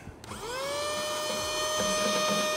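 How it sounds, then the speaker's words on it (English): A small handheld vacuum cleaner whirs up and runs steadily close by while cleaning out a Ninja Woodfire outdoor pellet grill, its motor whine holding at a constant pitch. "I do have a little vacuum cleaner"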